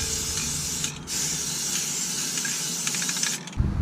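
Spray paint hisses steadily from a can as the edges of a truck's DPF are coated, a close, continuous spray with a couple of short breaks.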